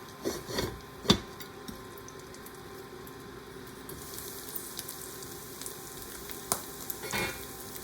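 Eggs frying in a pan over pesto rice: a steady soft sizzle with a few sharp clinks and knocks near the start and a couple more later, no talking.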